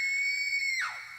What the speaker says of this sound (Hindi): साथ में अनामिका की भयानक चीख भी सुनाई दी